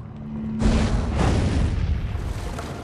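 A cartoon explosion sound effect in an animated undersea adventure bursts suddenly after a short low hum, then a loud rumbling roar sustains and slowly fades.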